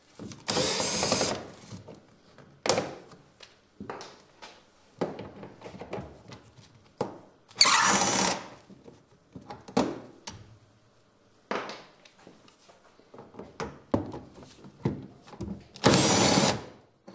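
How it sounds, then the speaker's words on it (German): A power tool with a Torx socket backs screws out of the front bumper of a BMW E87, in several short whirring bursts separated by pauses, close up with no talking. "Da schraubt man mit einer Achternuss die 3 Schrauben raus."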